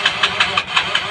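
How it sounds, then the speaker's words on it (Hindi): A motorcycle's electric self-start cranking without the engine catching, a rapid, even, loud chugging with about six strokes, alone with no voices. "चाबी ऑन करेगा और सेल्फ स्टार्ट करेगा"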